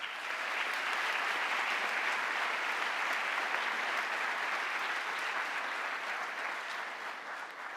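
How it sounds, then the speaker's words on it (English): A convocation audience at Laurier in Waterloo applauds the orchestra, volunteers and marshals, a steady, dense roar of many hands clapping at a distance that holds evenly throughout. "A round of applause."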